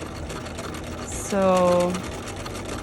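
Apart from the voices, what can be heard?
sewing machine back stitching a strap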